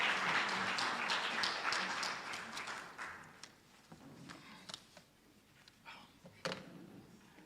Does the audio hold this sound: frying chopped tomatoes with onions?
no